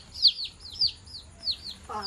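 Repeated high, thin peeping calls of small chicks, about five quick chirps spaced evenly, with a brief voice at the end.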